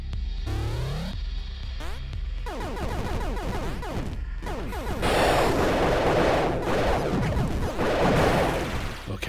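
Rapid bursts of gunfire blast from the player's weapon in the side-scrolling game Axiom Verge, sharp repeated shots with sweeping laser-like tones, growing denser and louder in the second half.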